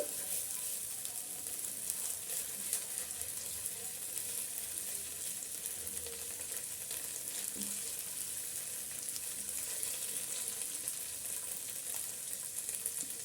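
Ginger-garlic paste sizzles and fries in a hot pan while being stirred, a steady close hiss with faint scraping throughout.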